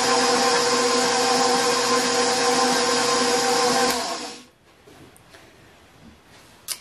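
Steady, loud whirring drone of an electric mixer blending bath bomb ingredients for cocoa butter bath bombs, running evenly for about four seconds before switching off into near silence with a faint clunk at the end.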